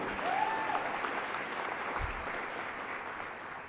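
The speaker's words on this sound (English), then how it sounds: "Please applaud extra loud if that's you." Sustained audience applause fills a civic luncheon forum on Ohio-Canada tariffs, a steady dense wash of clapping from a sizeable crowd that holds at an even level throughout.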